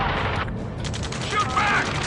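Ace Combat 7 gunfire: a dense, sustained fusillade of rapid shots with a constant rumbling bed, loud and continuous throughout, with shouted voices over the battle.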